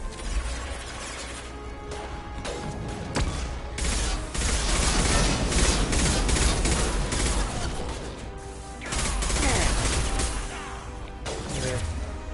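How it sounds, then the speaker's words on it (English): Flashbang grenade blast in the Mass Effect 2 Omega slums firefight, a loud crash and burst amid continuous gunfire and combat noise, with several sharp impacts scattered throughout. "how about flashbang grenade?"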